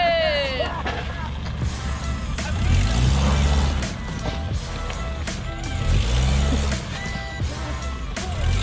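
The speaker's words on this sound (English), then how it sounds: "Off-road burnouts." A Toyota RAV4 doing off-road burnouts, with loud engine revving that surges twice over a rough, gritty roar of spinning tires, and people talking over it.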